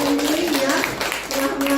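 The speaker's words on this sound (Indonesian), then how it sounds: "Sekarang saya minta tepuk tangan untuk diri kita sendiri." A room of school teachers clapping for themselves at a staff sharing session, a loud crowd of hands close by, with a steady tone running underneath throughout.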